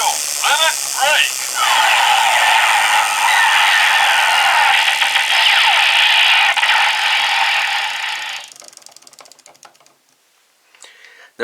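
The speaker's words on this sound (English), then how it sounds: "the music that the Meteor Driver gives off" Kamen Rider Meteor Driver toy belt sounding its limit break effect, a loud electronic burst of disco-like music with chirping tones that plays steadily for several seconds, then cuts off and fades into faint clicks.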